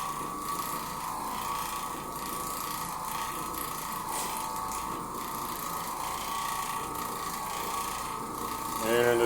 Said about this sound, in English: the way this agitates and scrubs the carpet fibers